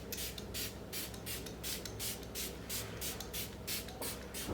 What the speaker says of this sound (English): I'm using this primer water from Smashbox